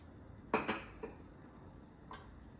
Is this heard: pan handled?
yes